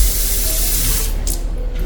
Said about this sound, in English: and we'll also add a little bit of water,